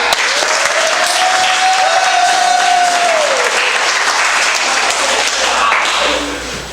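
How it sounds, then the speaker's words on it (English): A crowd at a Purnell Swett High School football team gathering claps loudly and continuously, with a faint tone sliding through the noise and the clapping tapering off near the end. "Come on, clap."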